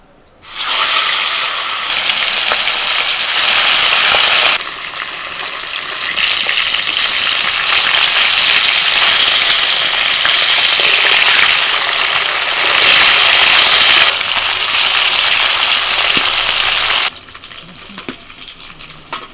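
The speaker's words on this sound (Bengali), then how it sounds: "তেল গরম হয়ে গেছে এবার একে একে মাছগুলো ভেজে নেবো" Koi fish frying in hot oil, a loud continuous sizzling hiss that starts abruptly, swells and dips slightly in intensity, then cuts back near the end, with no talking.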